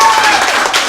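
A game show studio audience claps to vote for a contestant, a dense, loud wash of applause running steadily through the whole second.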